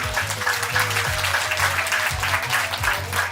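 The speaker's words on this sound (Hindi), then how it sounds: "बहुत बढ़िया, तालियां बजाइए।" Audience applause at an International Yoga Day gathering on 21 June, a dense steady patter of clapping from a group holding evenly throughout, with low tonal background sound underneath.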